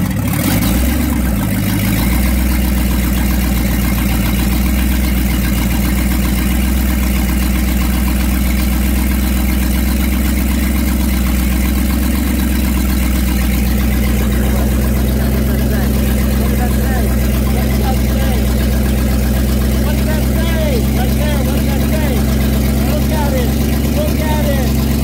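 A 1958 Ford Thunderbird engine idles steadily at close range, its low, even rumble holding throughout with a slight change partway through.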